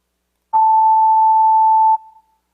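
A pure 880 Hz sine tone plays for a psychoacoustics demonstration, a steady, loud, single beep lasting about 1.4 seconds with a quick fading tail after it stops.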